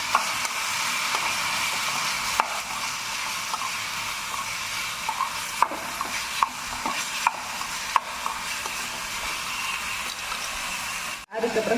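Vegetables are stirred and sautéed in a pan for veg chukka, giving a steady close sizzle with scattered scraping clicks of the spoon, a brief dropout near the end.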